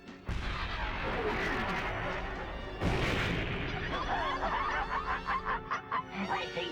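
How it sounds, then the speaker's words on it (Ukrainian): A cartoon weapon from the Transformers animated series fires with a loud sustained blast, a sharp burst midway, then rapid pulsing zaps, under music and effects. "Тепер стріляй."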